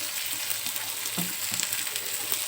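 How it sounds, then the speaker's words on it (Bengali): Onions frying in hot oil in a pan, a steady dense sizzle with faint crackles and a soft stir or scrape partway through, close and continuous with no talking. "এই পেঁয়াজগুলো যতক্ষণ না নরম হয়ে যাবে ততক্ষণ আমি তেলে ভেজে নেব"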